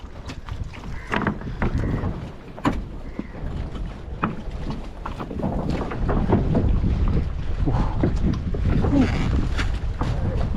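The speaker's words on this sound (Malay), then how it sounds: "Oh ni bot dia." A boat moves across a river mouth, with continuous wind and water noise buffeting the microphone throughout and scattered knocks and splashes.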